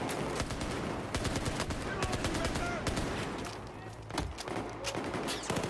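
Dense automatic and machine-gun fire in the Battlefield 4 campaign's Shanghai mission, rapid loud bursts of shots crackling almost continuously with a brief lull near the end.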